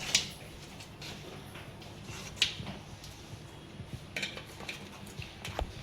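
A knife cuts hot, soft farali khatta dhokla into pieces in its tray, giving a few faint, sparse clinks and taps of metal against metal over a quiet background.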